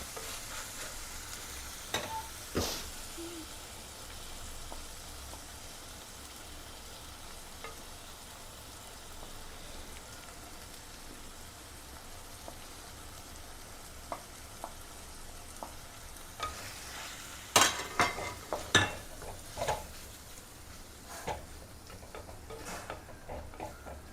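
Masala stirred and fried for a chicken curry, a faint low sizzle that continues steadily, with occasional ticks early on and a burst of spoon scrapes and clatter near the end.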